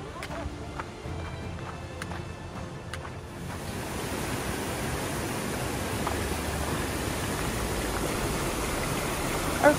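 Rushing creek water in the Grand Canyon, a steady broadband wash of flowing current that swells in after a few seconds of scattered footsteps and clicks, with wind buffeting the microphone.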